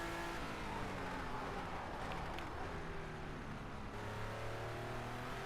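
A race car in a driving game floors it out of a turn, its engine note climbing in layered revving tones, loud and close, with a steady drone throughout and no talk.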